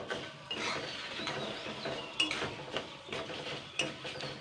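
Moong dal roasting in a pan until reddish, stirred so it doesn't burn: quiet scraping and light clinks of a spoon against the pan, with intermittent louder strokes.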